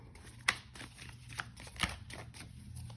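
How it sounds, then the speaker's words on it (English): Quick riffling and flicking of a tarot deck being overhand shuffled by hand, soft repeated patters with a couple of sharper snaps, fairly close and quiet. "Let me give my Crow Tarot a quick little overhand shuffle."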